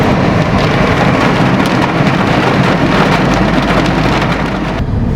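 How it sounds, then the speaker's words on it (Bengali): Heavy monsoon rain pours down steadily near Ranchi, a dense, loud, unbroken hiss of drops striking surfaces, with no voices over it. "এবার আপনারা দেখুন কীরকম বৃষ্টি হচ্ছে একবার।"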